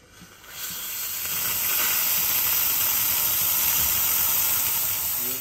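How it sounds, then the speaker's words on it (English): A La Pavoni Esperto espresso machine's steam wand opens with a short soft start, then settles into a loud, steady, close hiss that holds evenly for several seconds before cutting off. "you've got steam."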